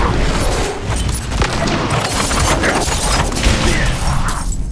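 Explosions during a fight in Diablo IV, dense crashing bursts and rumbling impacts layered over game effects, continuous and loud throughout.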